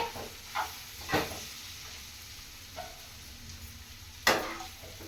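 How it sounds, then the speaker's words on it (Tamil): Torn chapati pieces sauté in a hot pan with a low, continuous sizzle, broken by several sharp bursts of hissing and scraping as they are tossed and stirred; no one speaks. "சப்பாத்தியை போட்டு நல்லா வதக்கி விட போறேன்"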